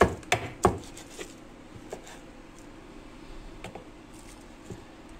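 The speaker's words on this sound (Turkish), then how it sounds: "bunu ince ince kokoreçlik doğradım" A knife chopping offal finely on a board for kokoreç, with a few sharp close knocks at the start, then sparse, fainter cuts over a quiet kitchen background.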